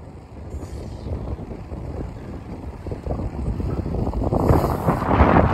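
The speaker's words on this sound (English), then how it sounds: "Windy though" Gusting wind buffets the microphone with a low rumbling roar that builds toward the end, steady and close with no voices.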